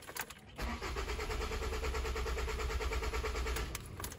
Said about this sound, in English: I'm gonna try and start the car again.